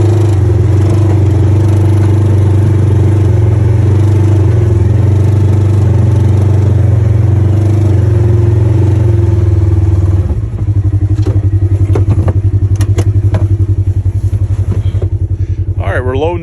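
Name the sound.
Polaris RZR UTV engine, loading onto trailer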